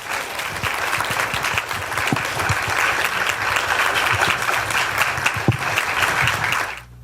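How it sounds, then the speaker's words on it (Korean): An audience at a Seoul National University social science talk concert gives loud, sustained applause welcoming Mayor Oh Se-hoon, thick continuous clapping that stops abruptly at the end. "큰 박수 부탁드립니다."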